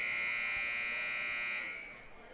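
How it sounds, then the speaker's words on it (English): A loud sustained electronic buzzer at a high school basketball game blares steadily for about two seconds, then cuts off into low background noise. "And you heard the buzzers"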